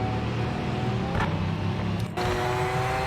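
A loud, steady Mazda Group C race car engine drones continuously with a brief dip partway through, close and overwhelming, no voices.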